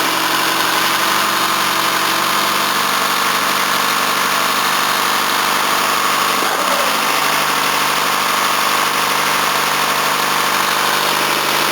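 An RT132R tiller's small engine runs continuously after starting, a loud, steady, buzzing drone with a brief change in pitch partway through and no talking.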